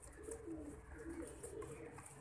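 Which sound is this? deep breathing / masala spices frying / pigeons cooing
pigeons cooing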